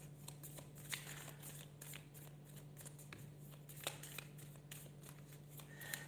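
Tarot cards being shuffled by hand in a quiet room, a steady run of soft riffling flicks and papery slaps with a low constant hum underneath, no talking.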